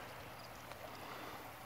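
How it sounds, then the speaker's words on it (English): A garden pond waterfall spills over rock beside a plant-filled bog filter pond, giving a steady, even broadband rush of falling water that holds constant throughout with no voices. "The waterfall."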